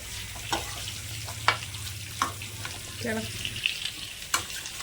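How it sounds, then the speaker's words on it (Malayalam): Chicken curry frying in a pan while being stirred, a steady sizzle broken by repeated scraping spoon strokes close by, with a low hum underneath. "നന്നായി ഒന്ന് ഇളക്കി കൊടുക്കാം."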